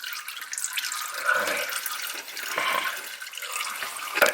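Motor oil drains from a car during an oil change, a steady trickling, splashing liquid stream that runs throughout, fairly close and continuous, with no talk.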